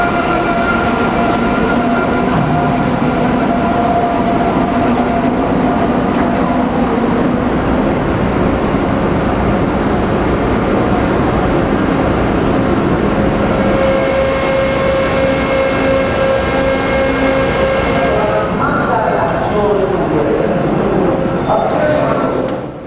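Panama Canal mule locomotives running on the canal railway beside the locks, a loud continuous rumble with sustained whining and squealing tones, steady throughout and tapering only at the very end.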